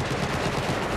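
AK rifle gunfire in Battlefield 4, a dense, continuous burst of automatic shots filling the whole second at steady loudness with no talk over it.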